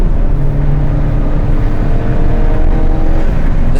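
Loud, steady engine drone with a low tonal hum from a modified German sedan driven hard on a track, holding an even roar from start to finish with no talk.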